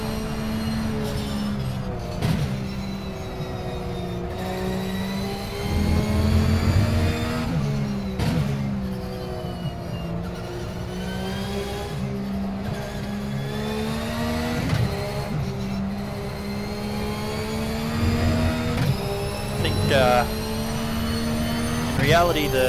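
In the Automobilista racing game, a Ruf Cup race car's boxer engine revs and shifts around Virginia International Raceway, its pitch climbing and dropping repeatedly while someone talks over it.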